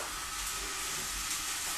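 Minced beef frying in a hot pan, a dense steady sizzle and hiss that carries on evenly throughout, close and fairly loud, with no talking.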